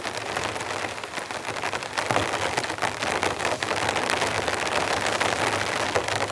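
Steady heavy rain patters on a tarp overhead, a dense continuous hiss of drops with occasional louder splats, close and enveloping, no voices.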